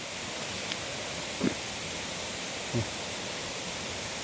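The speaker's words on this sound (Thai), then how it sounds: "เสียงน้ำตก" A waterfall in the hills, heard as a steady broadband rush of falling water that fills the whole clip at constant level, with a couple of brief faint knocks and no speech.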